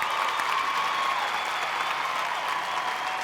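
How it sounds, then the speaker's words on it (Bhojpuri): Audience applause at a Bhojpuri award show night fills the air as a dense, steady wash of many hands clapping with crowd noise mixed in, holding level throughout. "जोरदार तालियां दोस्तों, एक बार जोरदार तालियां।"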